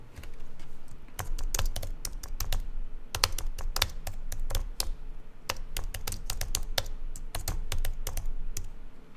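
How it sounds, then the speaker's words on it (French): Keys clatter on a computer keyboard in quick, irregular bursts of typing, close and fairly quiet, with brief pauses between runs of keystrokes. "Et je vais taper un titre là-dedans."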